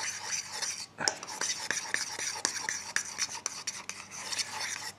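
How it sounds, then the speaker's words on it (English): A spoon stirs and scrapes homemade floating trout dough bait with buoyancy mix in a bowl, giving a steady gritty rasp with sharp clicks against the sides, close and fairly quiet. "And mix."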